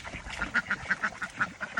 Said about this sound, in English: as the ducks fight each other in the water and make all kinds of noises